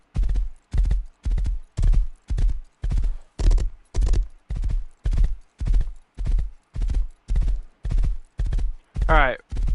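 Hoofbeats from a horse in the video game Rust pound in a steady, rapid rhythm of evenly spaced thuds, loud and close, with a brief whinny near the end.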